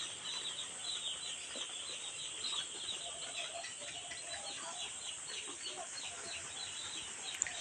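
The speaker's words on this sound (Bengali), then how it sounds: "এই দেখুন আমাদের মুরগিগুলা।" Chickens on a poultry farm fill the space with a steady, dense flock noise of clucks and wing flutters, continuous and moderately distant with no talking.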